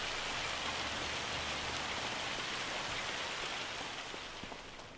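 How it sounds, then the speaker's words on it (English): Hail pours down steadily in Farming Simulator 25 as a dense, unbroken hiss of pattering impacts, loud and even throughout before easing slightly at the end. "but it's still coming down as hail."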